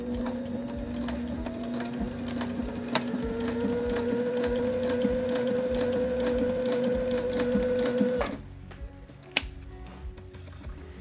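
A sewing machine with a binder attachment runs steadily as it stitches 2-inch seatbelt webbing, a sustained mechanical whir with needle clatter for about eight seconds before it stops abruptly, followed by near silence and one sharp click.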